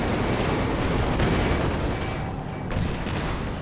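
In Company of Heroes 2, a Pershing tank fires amid a loud, continuous wall of battle noise. Thick booming gunfire and explosions stay dense and close from start to finish, with no talking.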